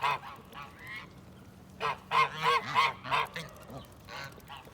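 Geese at an animal sanctuary honking close by, a burst of several loud nasal honks in quick succession after softer calls, with no talking.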